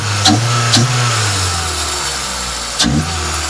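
A 2001 Toyota Celica GTS fitted with an Injen short ram intake revs up close by in short bursts over a steady idle, with a deep engine drone throughout.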